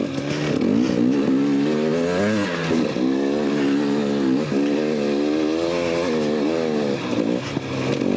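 A 2018 KTM 250 XC-W TPI two-stroke dirt bike engine pulls steadily up a hill, loud and close, with a continuous buzzing drone whose pitch rises and dips slightly as the throttle varies.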